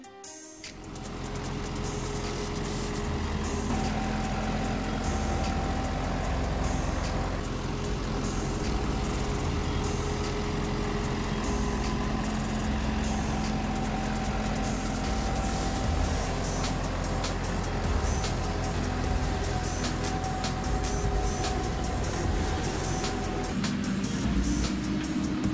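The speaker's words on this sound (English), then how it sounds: "trucks filled with potatoes begin moving to a warehouse about 1 kilometer away" Trucks loaded with harvested potatoes drive toward a warehouse, a steady loud engine drone and road rumble that holds without a break, with a gear change partway through and a slight shift in tone near the end.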